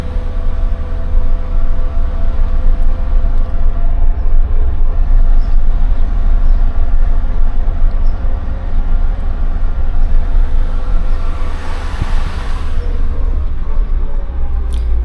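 A Suzuki Jimny engine pulling steadily in third gear in low-range four-wheel drive, a loud continuous drone with sustained harmonic tones and road rumble, unbroken throughout with no voices.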